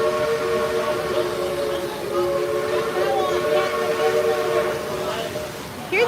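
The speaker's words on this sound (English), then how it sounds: "I love how you can hear the train even out at the parking lot." Train whistle at the Silver Dollar City theme park, heard from the parking lot: a sustained multi-tone steam whistle blowing steadily for several seconds over outdoor rumble, moderately distant, with a brief rise at the end.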